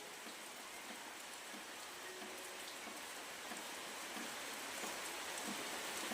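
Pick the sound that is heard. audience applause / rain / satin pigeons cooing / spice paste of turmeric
rain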